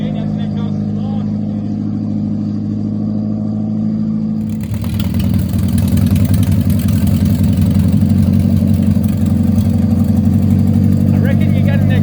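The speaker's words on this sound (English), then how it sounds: "I reckon you got an exhaust leak." A car engine idles with an exhaust leak or missing exhaust, a steady low rumble that jumps to a louder, harsher rattling drone partway through, close and continuous under brief talk.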